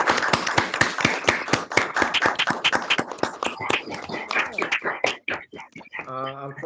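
Seminar audience applauding Irish Studies speaker, a dense run of sharp claps for about five seconds that thins out and stops, followed by a voice speaking.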